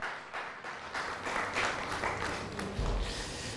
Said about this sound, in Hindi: बहुत सारी तालियों में द गोल्डन बॉय